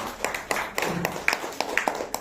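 Scattered clapping from a small audience at a company presentation, a dozen or so distinct, sharp claps spaced unevenly over a couple of seconds.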